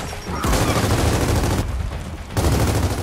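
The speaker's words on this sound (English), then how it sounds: "Who's shooting me?" Rapid bursts of video game gunfire crackle in Gears of War 4, a dense rattling fusillade that pauses once briefly before resuming, loud and close throughout.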